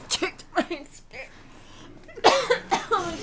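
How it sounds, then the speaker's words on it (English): A person coughs in a short burst of harsh, close coughs, then another cluster follows after a moment, with some voiced sounds mixed in. "That cough is not getting better."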